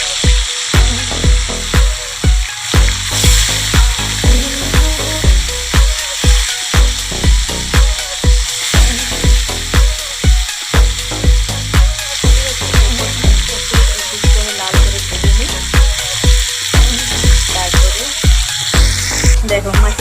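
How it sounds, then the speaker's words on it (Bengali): Pieces of catla fish fry in hot oil in a wok, giving a steady, loud sizzle with repeated rhythmic crackling bursts and scraping, no talk over it. "এবারে মাছগুলো কড়াইতে তেল গরমও হয়ে গেছে দেখো এবারে মাছগুলো দিয়ে দিচ্ছি"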